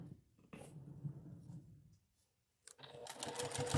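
Sewing machine stitching quilt pieces, a short close whirring run that stops, a brief pause, then starts again more loudly.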